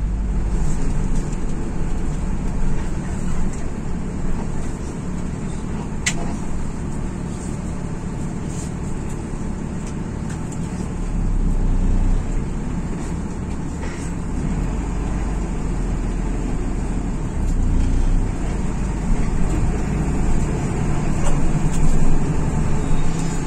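A Restu Panda intercity bus on the Surabaya to Ponorogo route rolls slowly toward the terminal exit, its engine a steady, close low rumble that swells slightly partway through, with no talking.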